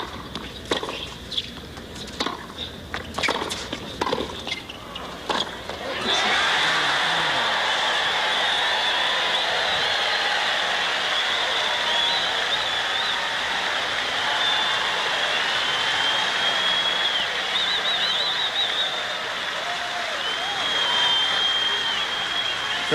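Tennis crowd at a 1988 Lipton match between Jimmy Connors and Miroslav Mecir, first a few seconds of scattered claps and shouts, then a sudden sustained roar of cheering and applause that stays loud and dense to the end.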